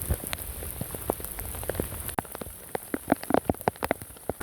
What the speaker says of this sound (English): It is really, really raining, and it's pretty solid.